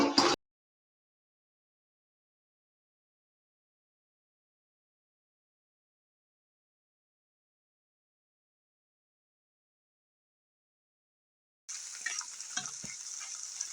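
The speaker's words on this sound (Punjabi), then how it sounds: "ਆਪਣਾ ਇਹ ਵੀ ਛਿਲਕਾ ਤੇ ਬੀਜ ਤਲਕੇ ਹੋ ਗਏ ਨੇ ਤਿਆਰ" Bitter gourd peels and seeds frying in oil: a brief crackle at the very start, then a long stretch of silence, and a steady close sizzle that resumes for the last two seconds.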